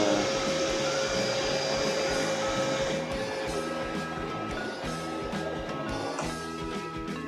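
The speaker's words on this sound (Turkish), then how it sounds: "Hadi götür artık yerine süpürgeyi." A real household vacuum cleaner runs steadily and fairly close, a continuous motor drone and airflow hiss with no talking over it.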